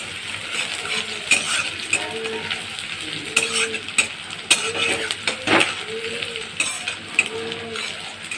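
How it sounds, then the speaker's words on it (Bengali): Chopped onions fry on high heat in a pan with a constant bright sizzle. Repeated scraping stirs and metallic clinks of the utensil against the pan cut through it, close up and without speech. "পেঁয়াজ কুচিগুলো ভেজে নিচ্ছি।"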